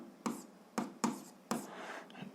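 A pen or marker writes out an algebra solution in four quick, distinct strokes, each a short scratchy burst, the last one longer and trailing off, close and quiet with no talking.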